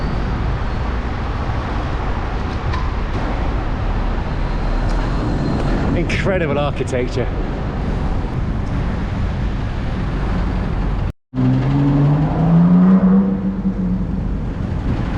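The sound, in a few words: road traffic in busy London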